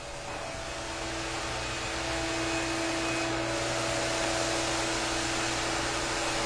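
Floor sanding machines run on a white oak floor, a loud, steady droning roar with a constant hum that holds unbroken throughout, with no voices.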